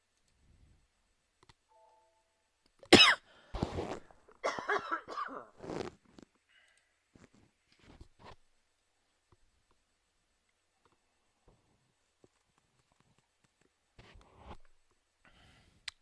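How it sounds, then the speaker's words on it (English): A burst of harsh coughing near the microphone, several coughs in quick succession, then quiet with a few faint clicks. "Wow, I do apologize for the cough"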